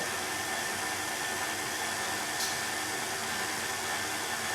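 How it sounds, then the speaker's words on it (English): A stand mixer kneads hot cross bun dough, its motor whirring in a steady, even drone throughout with no pauses. "the stand mixer is nice, it's going to bring it all together as one dough"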